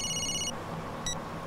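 A movie-scene telephone rings indoors with a bright electronic trill, one longer burst followed after a pause by a brief second one, over a low room hum.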